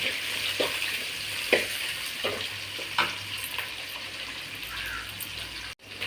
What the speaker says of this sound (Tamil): கருவேப்பிலை போட்டு வெங்காயம் வணக்கிட்டு இருக்க பாருங்க